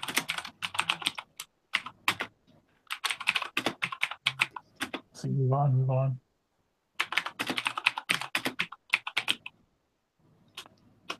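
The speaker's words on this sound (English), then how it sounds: "Everyone's listening to the Brotherhood of Mechanical Keyboards." Fingers type on a mechanical keyboard in rapid clicky bursts with short gaps, close and fairly loud, and a voice speaks briefly partway through.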